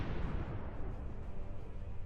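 Deep, rumbling blast from a kamikaze drone strike setting off ammunition in a Russian convoy, heard as a continuous low roar that fills the whole moment without distinct separate bangs.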